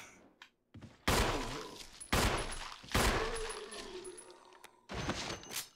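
In Resident Evil 1 (Remake), several loud, sharp gunshot blasts ring out in bursts with short gaps between them, each followed by a brief decaying tail, with faint talking in the background.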